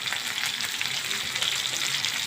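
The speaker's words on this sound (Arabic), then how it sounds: "هنبدا نحط الزيت الفلفل ناخد تشويحه مع بعض كده" Peppers sauté in the same oil already used for shawarma, a dense, even sizzle up close that runs the whole short stretch without pause or voices.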